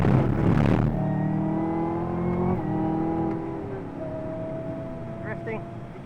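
A Chevy Camaro engine revs and then holds a strained, rising tone while the car drifts around Dubai, heard from inside the cabin with people talking over it.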